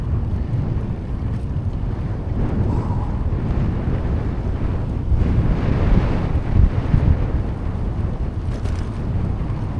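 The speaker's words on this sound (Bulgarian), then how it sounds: "с този силен насрещен вятър" Strong headwind roars across the microphone during a bicycle ride along the Danube, a steady loud buffeting rush with gusts swelling midway, no voices.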